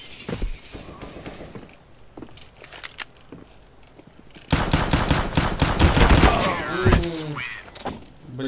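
Counter-Strike: Global Offensive gunfire, sharp sporadic shots early then a loud dense burst of rapid fire with clinking mechanical sounds, while someone talks over parts of it.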